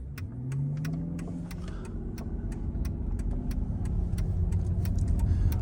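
A Mercedes V12 engine runs at half throttle, a steady, loud, low hum that builds slightly in intensity, with faint rhythmic ticking above it and no talk.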